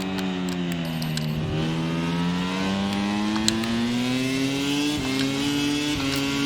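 A racing motorcycle engine in MotoGP 25 at the Aragon circuit holds a steady, loud drone that climbs slowly in pitch, with quick shifts of gear breaking the tone a few times, and no voices.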